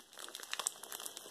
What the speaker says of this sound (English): We're just going to tear into it.